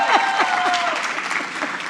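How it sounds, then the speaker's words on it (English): Applause from a crowd at a business awards gala, a full wash of clapping with a few voices calling out over it. "Give me a better applause, please."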